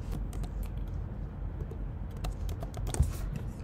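Typing on a computer keyboard, a quick run of light, close key clicks in an uneven patter with one sharper tap near the end.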